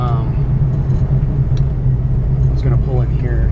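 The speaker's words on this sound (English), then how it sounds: "Race shift kit in the 700R4, so you can really hear it switching up the gears." Engine of a 1970 Chevrolet Chevelle SS with aluminum heads and a race-shift-kitted 700R4 automatic transmission, a loud steady low rumble with rising revs and an audible upshift late on, with talk over it.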